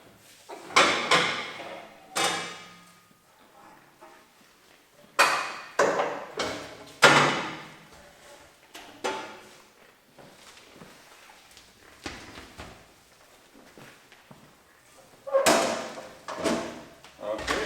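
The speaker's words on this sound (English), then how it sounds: "So now I'm going to transform it into a planer." Clunks, slides and knocks of metal parts come from a combination jointer-planer woodworking machine as it is reconfigured into a thickness planer, in loud irregular bursts separated by quieter pauses.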